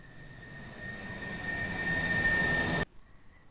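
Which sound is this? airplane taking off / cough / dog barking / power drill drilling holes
airplane taking off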